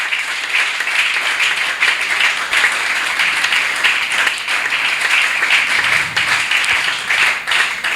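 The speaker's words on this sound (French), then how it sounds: "Acclame le Seigneur Jésus-Christ." A church congregation applauds steadily during a Sunday service, dense continuous clapping that holds throughout at a fairly close, lively level.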